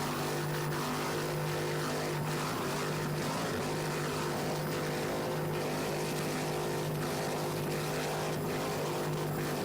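Hog's Breath racing powerboat with driver Todd Greger and throttle man Lee Murray, its engines holding a steady loud droning roar throughout a race off Islamorada, with no pauses or talk.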